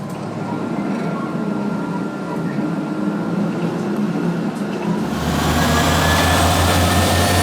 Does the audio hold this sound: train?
yes